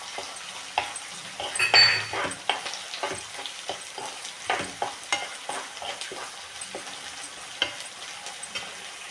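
A small tomato fries in a pan for palak paneer and is stirred repeatedly. A soft sizzle runs under scraping, clattering strokes of the spoon, with no talking.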